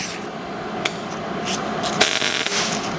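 A MIG welder lays a bead on a drive-unit part clamped in a vise during work on a Honda CX500 motorcycle, giving a close, continuous crackling buzz broken by a few sharp pops, with no talking.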